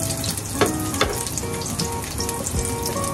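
Garlic sizzles steadily in hot oil in a pan, a dense continuous frying hiss with a few brief stirring scrapes, close and loud, with no talk.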